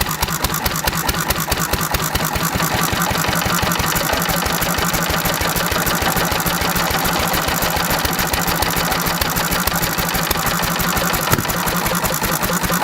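A small engine running very rich on pure SeaFoam with the spark advanced, making a loud, steady, rapid chugging throb close by for the whole stretch.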